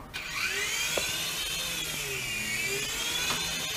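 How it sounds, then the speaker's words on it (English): A small Syma S5 RC helicopter's rotor throttles up, a steady, close electric whine with a faint rising and falling pitch that runs the whole time and has no talk over it. "So let's go ahead and give it some throttle and take it up here."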